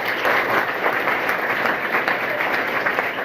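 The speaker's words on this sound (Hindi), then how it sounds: "ताली बजाओ जी, ताली बजाओ" Steady, even applause from an audience at a school-founder family gathering in Mokalpur, Madiyahun, Jaunpur, a continuous wash of clapping at moderate distance with no voices over it.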